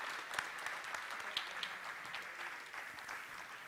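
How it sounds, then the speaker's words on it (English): Faint, distant applause from the audience at an alumni reception and dinner forms a soft, continuous patter of clapping across the room with a few sharper claps poking through. "Please join me in a round of applause to recognize this group"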